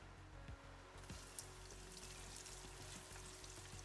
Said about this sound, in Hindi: ऑनियन को हमें सौते करना है जब तक उसका थोड़ा सा कलर चेंज ना हो जाए